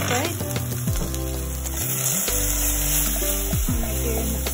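Onions with seasoning frying in a pan for a stew to serve with ugali, a steady sizzle running throughout, with stirring and clinks of utensils under background music and some talk.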